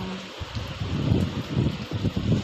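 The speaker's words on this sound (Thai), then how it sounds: "ทั้งฝนทั้งลม" Rain falls during gusty wind outdoors at a rural home in Thailand, with rough low rumbling bursts of wind buffeting the microphone over a soft rain hiss and no voices.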